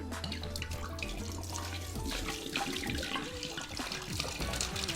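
Glenlivet 12-year Scotch whisky poured from a bottle, heard close as a continuous gurgling trickle of liquid, quiet and unbroken, with no voices.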